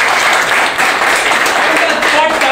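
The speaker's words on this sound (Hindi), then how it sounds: "एक बार जोरदार ताली बजाओ।" A class claps loudly during a mobile phone repair training lesson, a sustained, dense burst of many hands clapping close and strong, with faint voices mixed in.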